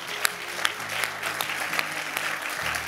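A church audience claps hands together, a steady moderate wash of clapping heard from a slight distance, with occasional sharper individual claps standing out.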